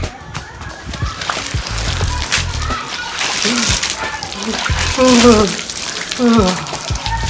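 A bucket of water is poured and splashed onto a porch, heavy sloshing and splattering throughout, under lively overlapping talk and shouts from several people, including a child.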